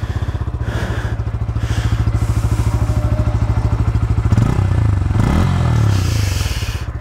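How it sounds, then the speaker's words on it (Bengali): A Bajaj Pulsar N160 motorcycle engine idles up close with a loud, steady pulsing thump, briefly rising and wavering in pitch midway before settling back into its even beat, with no voices over it. "তারপরও আমি ইঞ্জিনের সাউন্ডটা যদি আপনাকে একটু শোনাই একটু।"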